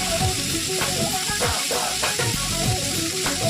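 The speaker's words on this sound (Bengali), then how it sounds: "গাজর কুচিটা ভালো করে এবার ভাজলাম।" Chopped carrot fries hard in a pan, giving a loud, dense sizzle broken by scraping stirs and occasional clinks of a spatula against the metal. It sounds close, and there is no talk.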